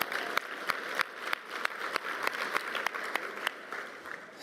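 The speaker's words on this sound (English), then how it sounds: "Can we give them a round of applause?" A conference crowd at a Black public administrators' forum applauds in a dense, continuous patter of hands, with sharp individual claps popping through at a steady pace.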